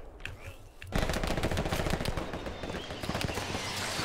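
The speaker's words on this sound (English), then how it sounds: "just have machine gun shooting here" A machine gun in the World War II shooter Hell Let Loose opens up after a brief quiet moment, a dense rapid stream of loud automatic fire that continues unbroken, with faint voices underneath.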